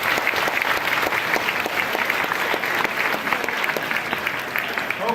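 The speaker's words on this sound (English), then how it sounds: "I'm going to say thanks with my applause and ask you to join me." An audience at a kindergarten graduation ceremony claps steadily and fairly loudly, a dense, even applause that carries on without a break.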